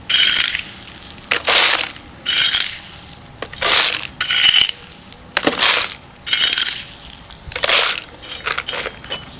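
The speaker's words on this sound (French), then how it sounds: "Je pose ma pomme de terre sur le sol et je vais la recouvrir de gravillons." Small gravel is poured in repeated short, crunchy bursts over a potato lying on the ground, close and distinct, each pour separated by brief pauses with no talk.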